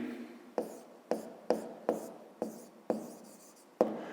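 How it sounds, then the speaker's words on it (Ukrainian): Pen or pencil writing on paper during a fifth-grade maths exercise, a run of seven sharp strokes that start crisply and trail off, close and fairly quiet with no talk. "Отже, записуємо."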